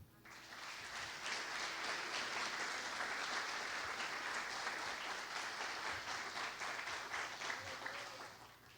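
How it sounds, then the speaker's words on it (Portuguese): A church congregation applauds during a Sunday morning service, sustained rapid clapping that builds within a second and holds evenly for several seconds, moderately distant, with a faint voice beneath. "Aplauda o Senhor."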